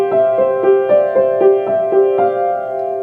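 A piano plays a steady run of evenly spaced notes in groups of four with no accent, clear and close, with no talking.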